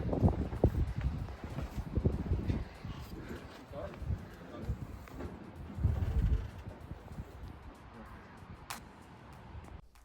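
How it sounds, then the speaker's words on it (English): Heavy wind buffeting the microphone, with low rumbling gusts throughout and faint background activity, on a construction site during excavation and footings for a home addition. "It was so windy, you couldn't understand a word I was saying"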